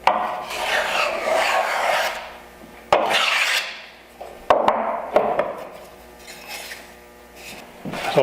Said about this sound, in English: So trimming the lengths of the individual chisel dividers on the shooting board.